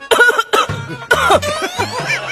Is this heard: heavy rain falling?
no